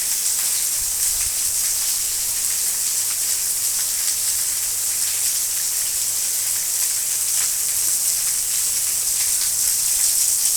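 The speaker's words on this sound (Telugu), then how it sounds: "సౌండ్స్ కూడా మీకు వినిపిస్తుండొచ్చు వర్షంవి" Steady, heavy rainfall makes a constant high hiss, with a faint low hum beneath it and no talking.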